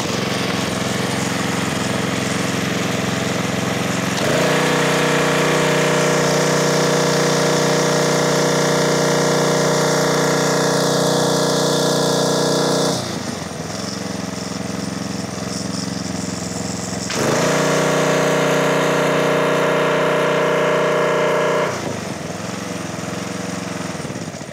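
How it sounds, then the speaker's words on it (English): A pressure washer's small gasoline engine runs near 3,600 RPM while the spray gun trigger is squeezed, a loud, steady close-up engine drone with the pitch and load changing twice as the trigger is pulled and released. "So we'll be hitting the trigger on the gun to simulate that load so we get some pressure going through the unit."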